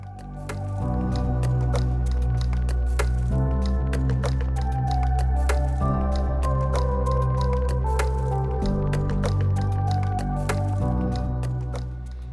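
Thinner is poured into a pad printing ink cup sitting on a scale, a steady liquid trickle with wet squishing and dripping sounds, close up, shifting in tone as the cup fills.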